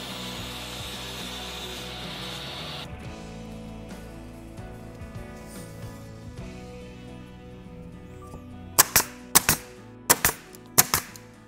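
Wood strips being cut with a power saw, a continuous buzzing cut at moderate level that stops partway, followed by several sharp knocks and clacks of the wood being handled.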